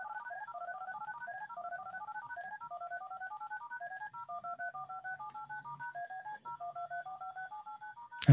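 Code-generated DTMF telephone tones beep in a rapid, steady sequence of short paired pitches, faint and clean, ending in a brief loud click.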